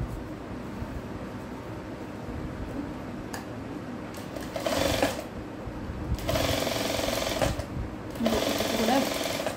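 A sewing machine stitches a blouse in several bursts of loud, fast mechanical whirring separated by pauses, close by, with a person talking quietly in between.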